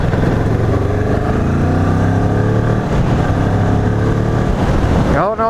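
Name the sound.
Kawasaki Ninja 650R motorcycle engine revving above 4,000 RPM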